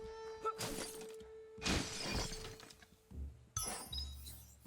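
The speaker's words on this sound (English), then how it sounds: "You shouldn't worry about smashing up the box." A wooden box smashed apart in the video game Biomutant, giving several loud crashing breaks with splintering clatter over about five seconds, alone and near, with a steady tonal hum beneath.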